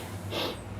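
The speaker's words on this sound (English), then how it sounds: "Sniffing." One short sniff, a quick nasal intake of breath heard alone and fairly close, against a low steady hum.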